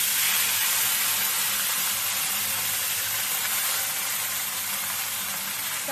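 Drumstick leaves dropped into hot oil in a pan, a steady, broad sizzling hiss that continues evenly for several seconds with no voices.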